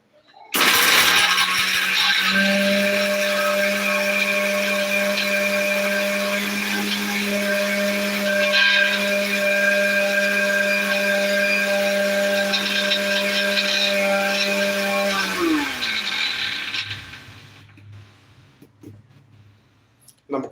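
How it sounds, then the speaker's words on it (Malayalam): A mixer grinder grinding spice masala whirs loudly and steadily for about fifteen seconds, a high motor whine with rattling, then winds down and stops. "ഇതെല്ലാം ഒന്ന് മിക്സിക്കകത്തിട്ട് ഒന്ന് അടിച്ച് ചതച്ച് എടുക്കണം"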